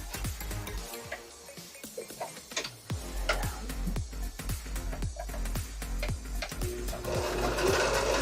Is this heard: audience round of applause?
no